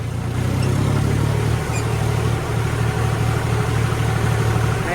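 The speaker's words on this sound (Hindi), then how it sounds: "नदी में ट्रैक्टर चलाने में मजे तो आते हैं बहुत।" A tractor engine, likely a John Deere 5050D or Mahindra 585, runs loud and steady at close range while driving through a river in third gear, its low drone continuous with faint water and no speech.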